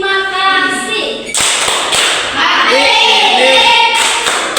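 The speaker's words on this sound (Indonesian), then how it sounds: "Tepuk terima kasih." Schoolchildren in a classroom doing a rhythmic thank-you clap, sharp group claps in short bursts following a stretch of voices, loud and close.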